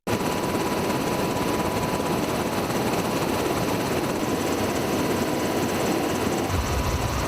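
A rescue helicopter on a sea-rescue training flight drones loudly and continuously, its engine whine and rotor thrum close and steady throughout with no speech.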